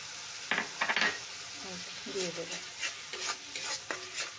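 Mustard and garlic paste dropped into hot oil and stirred, with soft sizzling under a run of spoon scrapes and light clinks against the pan, fairly quiet and close.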